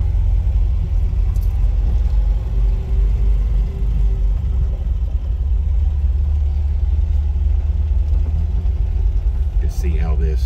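A 1969 MGB convertible drives along with a steady, loud low engine rumble throughout, mostly constant with slight swells; someone talks over the sound.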